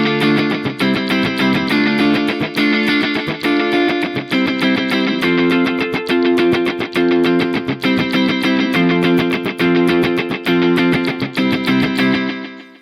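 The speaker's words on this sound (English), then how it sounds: "Let's play that same thing in the digital setting." Electric guitar played through a Donner Yellow Fall 2 pedal on its digital delay setting, a steady strummed and picked pattern with crisp repeating echoes trailing each note, loud and continuous with no talking.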